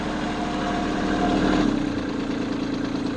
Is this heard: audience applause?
no